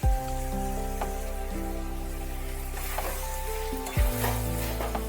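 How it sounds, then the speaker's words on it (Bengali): Fried eggplant stirred into potatoes with spices and coriander powder in a pan gives a steady, close sizzle, with occasional scraping stir strokes over the continuous frying hiss. "বেগুন দিয়ে ভালোভাবে আলুর সাথে নাড়িয়ে চাড়িয়ে নিতে হবে, যাতে বেগুন, আলু, মশলা সব কিছু মিশে যায়।"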